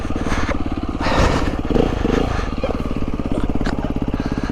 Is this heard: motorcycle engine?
yes